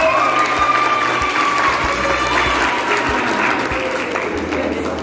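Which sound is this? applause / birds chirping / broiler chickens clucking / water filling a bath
applause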